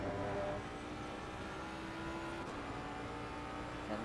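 V8 race car engine heard onboard in a racing video game at Misano, a continuous, fairly quiet engine drone with slight pitch shifts as the car brakes late and powers on.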